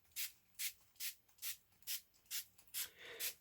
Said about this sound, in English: And all I do is I just spray that